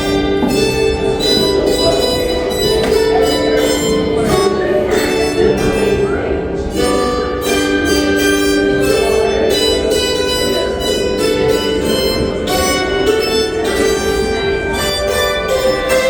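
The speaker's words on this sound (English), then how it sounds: "Old grain train going by." A long old grain train rolls past a house in Walton, Kentucky, a steady loud rumble with squealing metallic tones that holds unbroken from start to finish.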